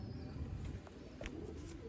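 Sialkoti breeder pigeons coo softly from close by, low and faint, with a few quick chirps scattered among the murmuring calls.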